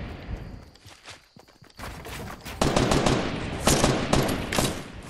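Gunfire in an online video game rings out in sustained, loud automatic bursts with rapid shots layered over one another and no talk.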